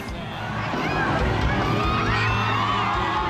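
Dense, loud crowd noise with shouting and cheering at a lively Catholic Mass in Brazil, sustained throughout with high voices rising over a steady roar.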